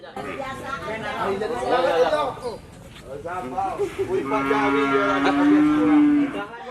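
Cattle moo during livestock vaccination of adult cows and calves, one long drawn-out low moo rising above nearby voices and general chatter, with more animal calls earlier in the scene.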